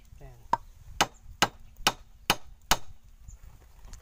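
Six sharp, evenly spaced hammer blows ring out close by while a Kubota tractor tire is fitted, each strike a bright metallic crack over faint background noise.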